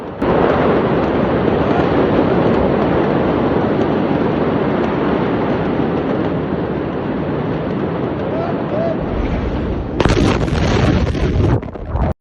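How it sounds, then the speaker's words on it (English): A powerful explosion blast in disaster footage sends up debris, dust and smoke, heard as a loud, sustained roaring rumble that flares into a harsher burst near the end. "The powerful blast force hurled debris high into the air, filling the sky with thick dust and smoke."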